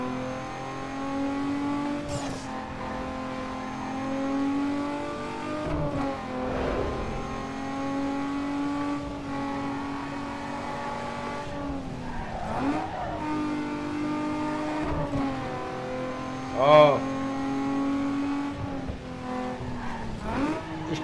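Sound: race car engine revving in Need for Speed Underground 2 video game

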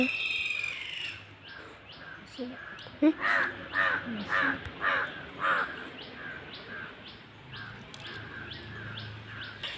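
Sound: crow cawing

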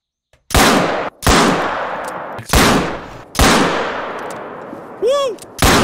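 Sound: pistol gunfire in a hunting video game

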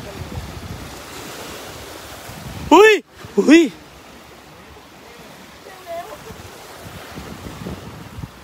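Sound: strong ocean waves crashing

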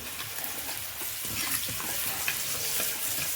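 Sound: tempering frying for saag

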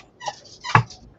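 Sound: small dogs barking

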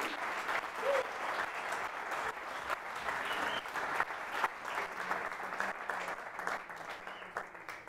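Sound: congregation applauding

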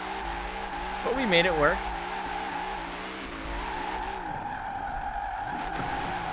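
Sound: car drifting through snow in Forza Horizon 4 video game

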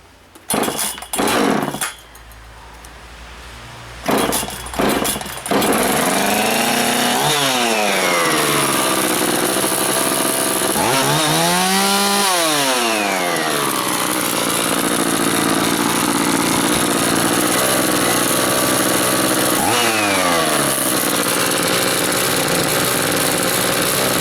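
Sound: starting an Oleo-Mac chainsaw with new carburetor

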